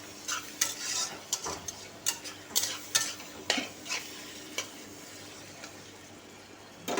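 Small fish curry cooking in a pan just after two medium chopped tomatoes go in, giving a soft steady sizzle broken by repeated sharp spatula scrapes and stirring clacks. No voices are heard.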